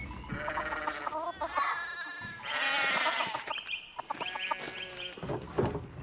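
Sheep in the video game Pentiment bleat repeatedly in overlapping, wavering calls, several animals crowded close together, loud and clear with no talk over them.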